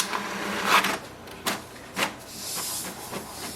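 An HP DeskJet 2955 printer making a two-sided copy, with soft mechanical whirs, a brief louder rasp and a few short clicks and swishes of paper feeding close by.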